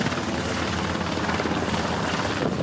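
A firefighting helicopter flies over a forest fire in the hills of Caotun, Nantou, its rotor and engine producing a dense, steady, loud roar that fills the whole stretch with no pauses.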